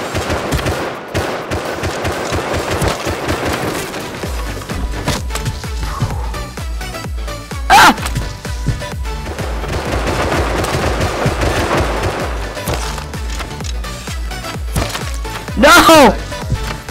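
Rapid bursts of gunfire crack out in the Rust survival game, with sharp repeated shots and a bright ringing hit sound twice, all fairly loud.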